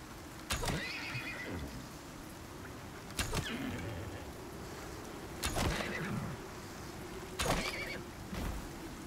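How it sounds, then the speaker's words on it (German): A small horse in the video game Icarus neighs several times, sharp whinnies spaced a couple of seconds apart, fairly close, over a low steady background. "Das ist das kleine Pferd."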